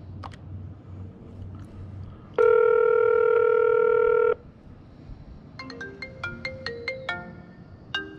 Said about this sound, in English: I have it set up to ring my cell phone